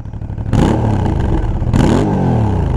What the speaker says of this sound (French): Donc, tu sens le gros moteur italien.